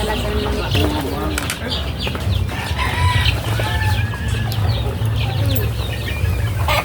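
Chickens raised for egg laying cluck and squawk nearby, with a rooster crowing and wings flapping, a busy continuous flock sound with some talk faintly mixed in.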